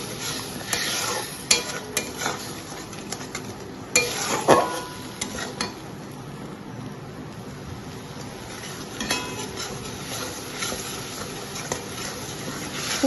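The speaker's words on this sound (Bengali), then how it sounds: "সামান্য হলুদ দিয়ে একটু নাড়াচাড়া করে জল দিয়ে দেবো।" Spices with turmeric being stirred in a frying pan for a pomfret mustard-poppy curry: a soft continuous sizzle runs throughout, broken by several sharp utensil scrapes and clinks against the pan, with no talking.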